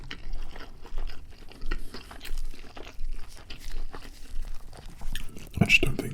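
Someone eating a KFC burger feast with Zinger, fillet and trilogy burgers, with close, crunchy bites and crinkling wrapper sounds in irregular bursts, a louder crunch near the end.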